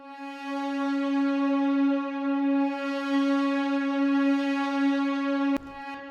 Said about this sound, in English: This is another Analog Lab preset, the Synthwave Split preset,